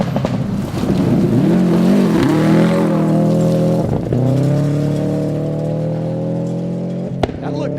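A rally car on the night running of stage 4 at the 2012 Olympus Rally, its engine loud and close as it revs and shifts gears, with a brief squeal of tyres near the end.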